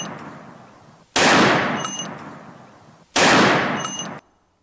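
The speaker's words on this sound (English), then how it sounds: "If you hear gunshots, it's probably gunshots." Two loud recorded gunshots played during a church presentation, each a sharp blast with a long decaying tail, about two seconds apart, over background hum.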